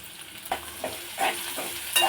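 Ingredients are sautéed in a pan for spicy kozhukattai, with a steady sizzle and a few sharp scrapes and taps of a spatula stirring, close and without talk.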